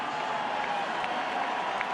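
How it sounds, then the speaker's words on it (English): Playoff baseball crowd at a Giants NLCS game roaring in celebration, a dense, steady wall of cheering and applause from a large stadium audience with no breaks. "this crowd went crazy"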